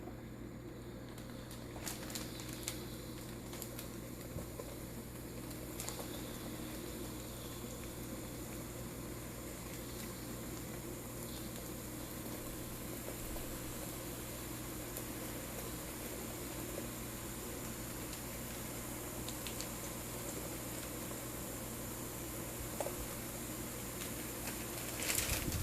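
Jalebi batter sizzles steadily in hot oil over medium-low heat, a continuous soft crackling hiss with occasional small pops, close and without speech.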